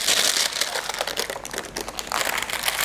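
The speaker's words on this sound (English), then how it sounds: "you kind of have to peel the parchment away" Parchment paper peeled away from a baked pear cranberry galette: continuous close crinkling and rustling of paper, with soft crackles throughout.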